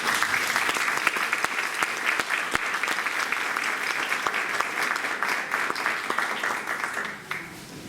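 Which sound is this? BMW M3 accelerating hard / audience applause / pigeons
audience applause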